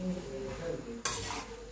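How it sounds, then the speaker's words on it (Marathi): A spoon stirs mashed potato filling for vada pav with added salt in a pan: a continuous soft scraping and shuffling, then a sudden louder, sharper scrape partway through, with no talking. "ह्याला आता छान मिक्स करून घेऊया।"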